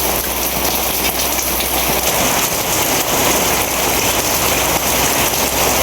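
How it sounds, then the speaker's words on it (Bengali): A sudden rain shower falls as a dense, continuous hiss, loud and unbroken throughout, with no voices. "বৃষ্টি নামলে এই সমস্যা ঘরে দিয়ে আপনার জল ভরে"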